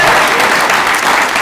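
A short burst of audience applause at a Silicon Valley Meets Rural Iowa event in Jefferson, Iowa, with dense, loud clapping that stays steady for about a second and a half.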